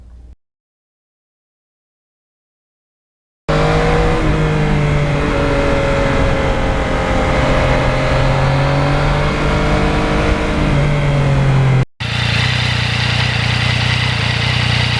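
A 2020 Yamaha MT-09 motorcycle engine pulling hard after a brief silence, loud and close with a rising, rolling drone that climbs steadily before a short cut and a further burst of engine noise.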